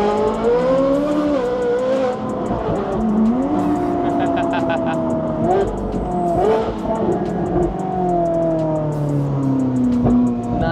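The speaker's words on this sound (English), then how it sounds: "Nothing sounds like this car" Loud supercar engine revs and wails with rising and falling pitch while drifting at a track, tires squealing in bursts over the continuous close roar.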